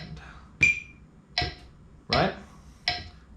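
A metronome clicks in a slow, even beat, four sharp ticks spaced about three-quarters of a second apart, near and distinct, with a brief spoken word in between.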